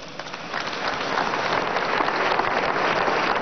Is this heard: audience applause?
yes